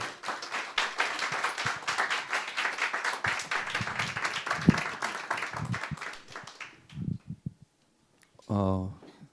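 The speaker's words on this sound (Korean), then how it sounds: "격려의 박수 한번 뜨겁게 해주시기 바랍니다" A congregation applauds during a Christmas thanksgiving church service as the secretary general comes forward, several seconds of clapping from many hands that fades out, followed by a short pause and a brief tone.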